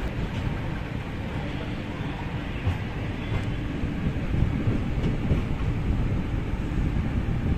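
The Salem–Yesvantpur Unreserved Express passenger train rumbles steadily with a low, continuous roar and faint rattling, heard from inside, with no talking.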